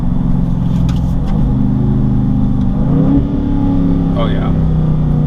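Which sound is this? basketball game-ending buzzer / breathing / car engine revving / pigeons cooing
car engine revving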